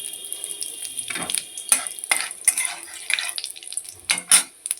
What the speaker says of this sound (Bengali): এখন আমি এর মধ্যে দিয়ে দেবো ফোড়নের জন্য কালো জিরে